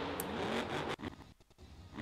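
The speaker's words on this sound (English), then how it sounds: "So here comes their monster truck." A monster truck in a Fortnite teaser gives off a quiet engine rumble for about a second, then cuts sharply, followed by a few brief, faint mechanical bursts.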